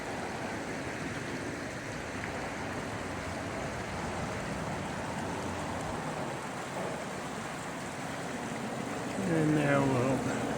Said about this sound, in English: So here we are by the creek.